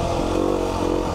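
Beta 390 RR Race Edition four-stroke dirt bike engine running steadily at close range, a brief continuous mid-pitched drone with no voices.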